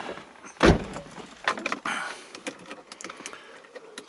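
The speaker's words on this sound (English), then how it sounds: "Pull the door to." Someone pulls the door of a Mazda MX5 roadster shut from inside with one sharp, close thud. Softer rustles and clicks from the cabin follow.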